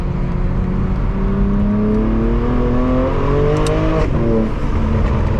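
A BMW M4 Competition tuned to about 900 bhp drones loudly and steadily with rising harmonic pitch as it accelerates, joined by a high whistling turbo spool through front-mount intakes and a brief whoosh.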